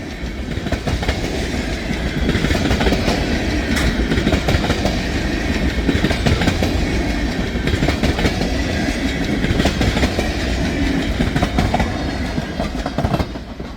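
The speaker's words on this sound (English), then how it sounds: "Pretty good hefty train right here." A heavy freight train hauling pulpwood rumbles past nearby, a loud continuous roar with steady rhythmic clatter of wheels over rail joints.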